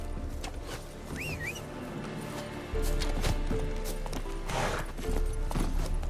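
Roach, a horse in The Witcher 3, gallops with rapid rhythmic hoofbeats over a game soundscape, growing heavier midway and staying fairly close, with faint whistling tones early on.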